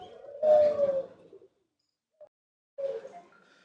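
Australian doves in an aviary cooing, two separate low coos with a pause between, close and fairly clear against quiet surroundings.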